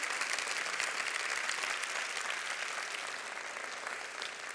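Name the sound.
audience applause for artists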